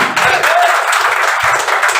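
Audience applause for a marketing company at a Bengali sales training programme, a steady dense wash of clapping from a crowd lasting throughout, fairly loud and even with no voices over it.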